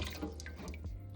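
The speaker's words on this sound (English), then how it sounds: "add some water to a pot" Water splashes and drips into a cooking pot on a home kitchen counter, a short close burst of pouring and trickling with no voices.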